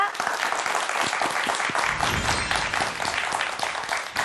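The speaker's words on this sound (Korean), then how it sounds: "충남대학교 수학교육과 서보어 교수님을 큰 박수로 맞이해 주시기 바랍니다." A studio audience claps steadily to welcome a university mathematics education professor, the dense applause holding strong throughout with brief voices mixed in.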